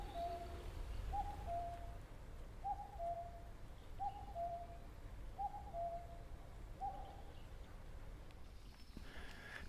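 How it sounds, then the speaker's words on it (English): Cuckoo calling after rain during Korea's rainy season, a faint two-note hoot repeated six times at an even pace over quiet outdoor background. "is the bokkuki, the cuckoo sound."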